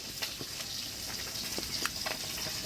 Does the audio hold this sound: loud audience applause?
no